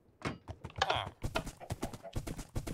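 Horse hooves clip-clopping in the video game Minecraft, a quick series of sharp, close knocks in an uneven trotting rhythm, fairly quiet overall.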